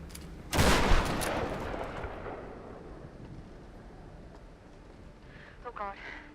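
A single heavy shotgun blast from the video game Tomb Raider booms loudly and rolls off into a long fading tail, followed by quiet game ambience and a brief voice at the end.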